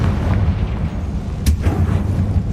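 A Confringo spell blast in Hogwarts Legacy lands as a loud, dense explosive boom over a heavy rumbling low background, with a sharp burst in the middle.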